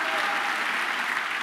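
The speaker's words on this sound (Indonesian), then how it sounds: "Tepuk tangan, haleluya." A congregation at a church worship service breaks into dense, steady applause, loud and sustained with no gaps, heard close and filling the room throughout.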